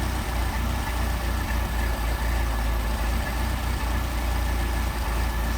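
A car engine fitted with twin Solex carburetors idles steadily and close by during idle adjustment, a continuous low rumble with no talk over it.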